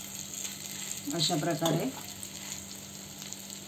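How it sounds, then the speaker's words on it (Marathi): Bread slices frying in a pan, a quiet steady sizzle heard close, with someone speaking briefly over it midway. "दोन्ही बाजूने फ्राय करून घ्यायचे हे।"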